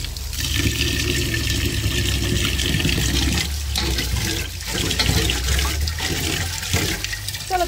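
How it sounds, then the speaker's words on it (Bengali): Rice being rinsed in water, a steady wet splashing and swishing with brief pauses, close up and continuous, with no talking. "তো চলো চালটা ধুয়ে নিয়ে যাক।"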